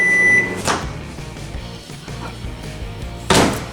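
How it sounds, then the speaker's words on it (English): Microwave oven heating a mug of cream cheese and butter, a low steady hum running throughout, framed by a sharp clunk near the start and another loud clunk of the door near the end. "Now we're gonna put this in the microwave for about 30 seconds."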